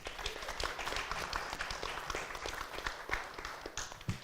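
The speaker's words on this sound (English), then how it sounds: "let's make a round of applause for Lenny" Applause at a criminal justice capstone event breaks out for an honoree, many hands clapping in a dense, steady patter that holds for several seconds at moderate volume, with a few louder claps standing out near the end.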